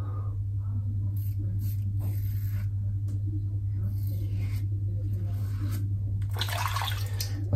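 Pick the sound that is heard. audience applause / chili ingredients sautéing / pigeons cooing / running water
running water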